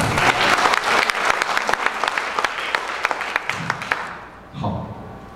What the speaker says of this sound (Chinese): 像，我要听到一点掌声。